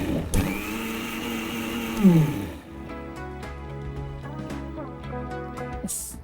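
A kitchen mixer grinder blends a tamarind, aval and mint chutney with a loud whirring roar. It revs up in short bursts, then stops, leaving a quieter room background.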